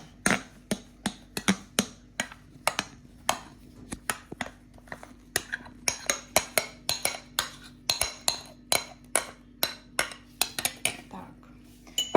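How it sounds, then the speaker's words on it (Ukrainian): Dough with yeast for a Christmas cake being mixed in a bowl, with a spoon knocking the sides in a fast, regular series of sharp clinks and taps, close and loud, and a low steady hum underneath. "Тепер перемішуємо до однорідності"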